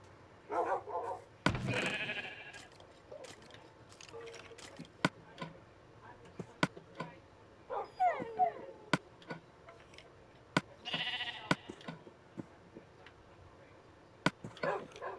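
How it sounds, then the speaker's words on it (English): Minecraft sheep bleating inside a player's house in the PlayStation 4 edition, a few short bleats spread across the stretch amid sharp clicks and ticks of game actions, with brief bursts of other game noise. "a sheep decided to be in my house for some reason."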